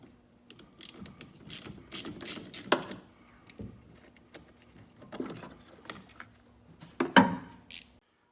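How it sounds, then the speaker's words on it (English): A ratchet wrench clicks in short bursts as it loosens the negative cable clamp on a car battery, close and crisp, with pauses between each run of ratcheting. "we need to go ahead and disconnect our negative battery cable."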